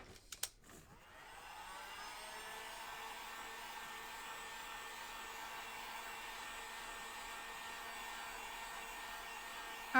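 A hair dryer runs steadily to dry a DIY bunny swing kit, a constant close airy whoosh lasting about ten seconds after a few brief clicks and knocks at the start.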